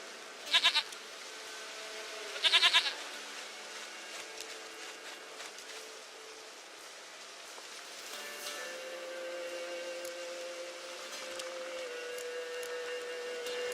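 A goat in The Witcher 3 gives two short bleats near the start, close and clear, then a quiet game ambience with soft tonal sounds carries on alone.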